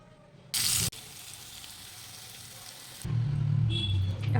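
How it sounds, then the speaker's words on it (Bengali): Spice tempering hitting boiled lentils: a sudden loud burst of hissing sizzle, a stretch of quieter bubbling, then a louder rushing sizzle that carries through to the end. "ডাল সিদ্ধ হয়ে গেছে, এখন ফোড়ন দিয়ে নেব।"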